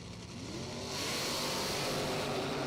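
A 1984 Camaro and the Greg Hines Racing Chevy II launch at a Labor Day drag race event, engine roar swelling quickly into a loud, sustained, rough blast from the strip.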